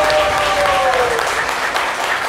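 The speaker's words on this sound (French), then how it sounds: "Est-ce qu'on peut applaudir ce parcours?" A studio audience applauds a guest's career path on a French-language talk show, a short burst of steady, dense clapping filling the whole moment.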